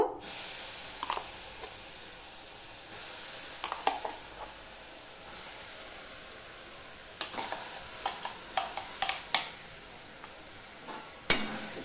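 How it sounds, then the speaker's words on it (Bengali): Amla paste being stirred in a hot kadai over a low gas flame. A soft, continuous hiss runs throughout, broken by faint, irregular scraping taps from the spoon that cluster more densely toward the end. "এবারে দেখো আমি যে পেস্টটা বানিয়ে নিয়েছি আমলকির, সেই পেস্টটা আমি দিয়ে দেব"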